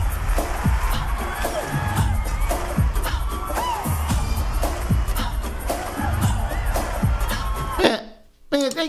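A large audience cheers wildly and keeps roaring at a performance on American Bandstand, with loud sustained crowd noise, rhythmic music hits underneath, and someone talking over it before it cuts out near the end.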